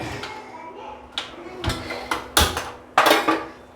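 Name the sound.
placing a cooking pan on the gas stove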